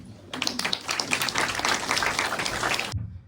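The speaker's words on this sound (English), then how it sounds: "Please welcome the speakers with a round of applause." An audience at an academic mathematics symposium presentation claps in a dense, steady burst for about two and a half seconds, then stops abruptly.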